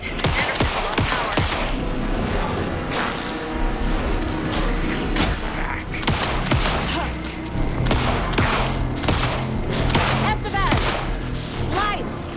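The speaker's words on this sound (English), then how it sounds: "Anderson, pin him down with gunfire for me to get the light on him." Dense, continuous automatic gunfire from the video game Alan Wake II, rapid bursts overlapping into a loud, sustained barrage with brief breaks, with voices shouting over the shooting.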